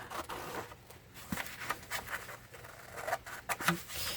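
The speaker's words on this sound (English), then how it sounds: "So what we'll do here first is let's just cut out our image." Scissors cutting an image out of a vintage greeting card, soft snipping and paper rustling in uneven bursts, close and faint.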